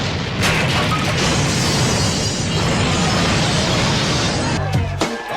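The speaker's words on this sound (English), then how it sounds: "he decides he's gonna connect the wires anyway and then jumps out of the way as the entire house explodes" A whole house explodes in the horror film The People Under The Stairs, a loud sustained roar of blast and debris filling the scene, followed by crackling and thuds near the end.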